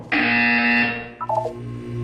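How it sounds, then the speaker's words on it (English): A Portal 2 video game buzzer sounds as one loud, steady electronic tone lasting almost a second. A brief series of falling electronic chimes follows. "When you hear the buzzer, look down at the floor."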